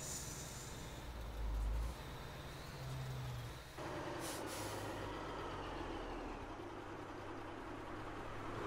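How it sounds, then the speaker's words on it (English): Air brake of a truck in the Alaskan Road Truckers video game releases a sharp hiss of air midway through, set over a steady low engine rumble. "Put our air brake on."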